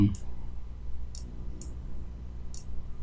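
Four crisp computer mouse clicks sound at uneven intervals over a low room hum, while someone speaks Thai at the start.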